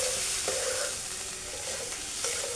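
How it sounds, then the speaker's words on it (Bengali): Ginger, garlic and chili paste with turmeric frying and being stirred in a hot pan, giving a steady close sizzle with soft scraping strokes throughout and no voices. "বাটা মশলাটা দিয়ে একটু ভালো করে কষাবো"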